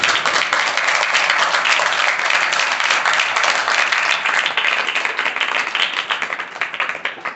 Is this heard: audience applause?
yes